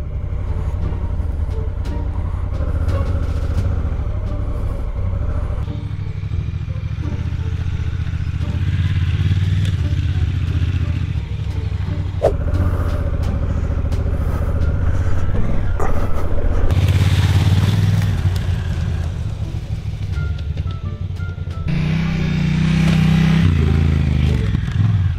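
Off-road trail motorcycle ride, with the engine droning and revving continuously while the tires clatter and scrape over rough ground.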